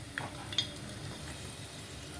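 Asafoetida frying in hot oil gives a steady, soft sizzling hiss with a couple of brief clicks of a utensil near the start.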